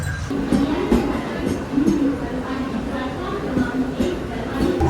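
Interior of a moving commuter train on the line past Thakurli and Dombivli: a steady, dense rumble with a low droning hum and occasional rattles, continuous and fairly loud throughout.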